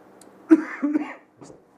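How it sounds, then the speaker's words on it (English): A single person coughs a few times close up, harsh and throaty, with short silences between. "Still have a cough from this cold"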